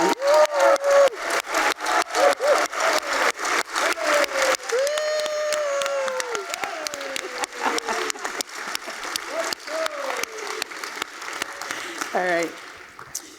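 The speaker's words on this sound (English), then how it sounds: "let's clap and even cheer for the Connecticut Health Foundation" A convention-center ballroom audience claps and cheers loudly, with sustained dense applause, whoops and shouts rising over it for several seconds.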